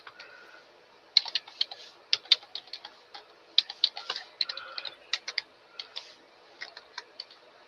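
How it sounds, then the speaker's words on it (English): Irregular bursts of keyboard typing, clicking keys in quick clusters with short pauses, close and fairly quiet with no voices. "I'm still busy typing."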